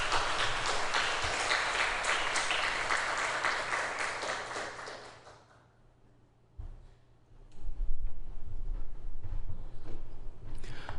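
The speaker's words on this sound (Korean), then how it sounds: "우리 선교사님 나오실 때 큰 박수로 함께 맞이하겠습니다" Church congregation applauding to welcome a missionary at an evening worship service: a dense burst of clapping that fades out around the middle, then scattered lighter claps and rustling return.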